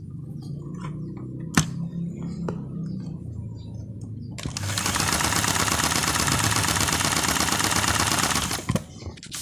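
A Janome 2049 portable sewing machine runs a test stitch, starting after a few clicks and handling noises into a fast, steady, loud mechanical chatter that holds for about four seconds before stopping.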